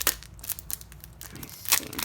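Payday stickers handled in their packaging, crinkling in a few sharp bursts of plastic rustle with quieter handling between, close and fairly soft.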